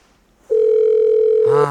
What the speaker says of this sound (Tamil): ரிங்கு போகுது.